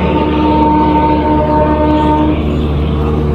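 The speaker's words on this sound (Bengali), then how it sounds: "এই যে তোমরা ট্রেনটা দেখতে পাচ্ছ" A train passes close by on the line toward Salanpur and Rupnarayanpur, giving a loud, steady rolling rumble with a sustained tonal hum over it for the whole stretch.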